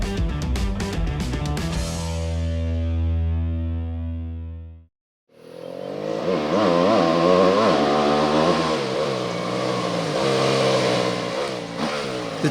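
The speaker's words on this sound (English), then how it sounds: "The 2020 Yamaha WR250 F is a race weapon." A 2020 Yamaha WR250F dirt bike engine idles with a steady buzzing drone, cuts out briefly, then roars back loud and close, revving hard with rising and falling pitch and no voices.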